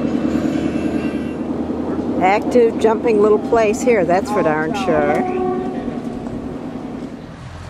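A train on the Burma Death Railway at the River Kwai in Kanchanaburi, Thailand, rumbles steadily nearby while someone talks over the noise, the rolling clatter fading slowly toward the end.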